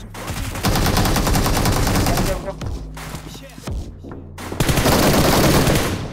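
Rapid automatic gunfire in the Free Fire video game rattles in dense, loud bursts with a short gap in the middle before another sustained burst.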